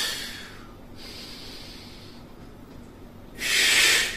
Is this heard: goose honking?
no